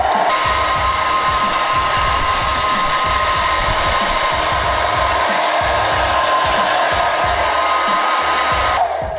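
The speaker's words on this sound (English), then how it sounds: "I'm gonna blow dry it" A hair dryer on low heat blow-drying got2b glue on a synthetic lace frontal wig, a loud, steady whooshing hum running continuously for about nine seconds and then cutting off, with no talking.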